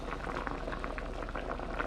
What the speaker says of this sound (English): So, rice is boiling.